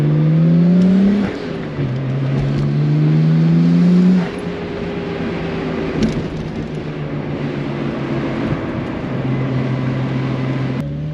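A Nissan Skyline R32 GTR engine drones loudly, then its pitch climbs and shifts through gear changes as the car accelerates, settling into a steady sustained note with no voices.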